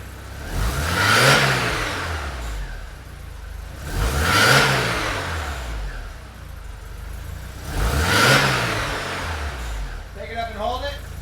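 A Porsche 944 engine in a garage is revved three times, each rev rising and falling smoothly between steady idle stretches. It sounds close and loud, with brief talk near the end.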